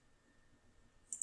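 Two quick, close computer mouse clicks land near the end, crisp and faint against quiet room tone.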